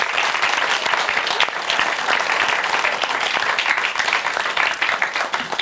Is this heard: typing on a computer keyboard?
no